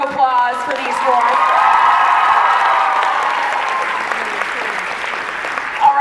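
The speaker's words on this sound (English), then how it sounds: "So can we get another big round of applause for these four?" Fan convention crowd applauding and cheering for four Riverdale cast members, loud sustained clapping with whoops and shrill shouts rising over it, tapering slightly near the end.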